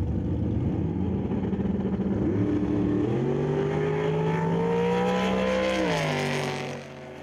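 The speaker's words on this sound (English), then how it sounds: "If you're a fan of screeching tires" Drag racing cars roar loudly and continuously at the Northwest Regional Airport in Terrace, revving up in rising pitch sweeps before easing off near the end.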